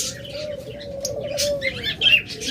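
Caged pet birds, lovebirds, budgerigars and Java sparrows, call in a close, lively chorus of sharp chirps and short tweets above a low steady drone, with no voices.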